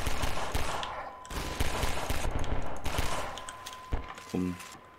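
Explosive barrels detonate in Half-Life 2, a dense run of loud booms and crackling blasts that fades out, followed by a few lighter game sounds.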